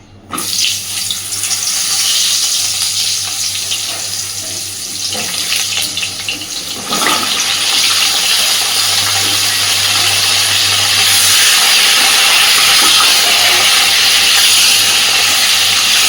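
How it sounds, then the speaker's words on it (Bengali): Pointed gourd pieces fry in hot white oil in a wok, giving a loud, continuous, close hiss that holds steady for the whole stretch and grows brighter toward the end. "খুব সুন্দর করে পটলটা ভেজে নিতে হবে।"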